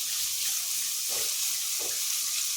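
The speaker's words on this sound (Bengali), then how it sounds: "সবজিটা এবার অনেকটাই আমার ভাজা মতো হয়ে গিয়েছে।" Mixed vegetables fry in a pan with a steady, bright sizzle. A couple of soft stirring scrapes are heard over it, and no voices come through.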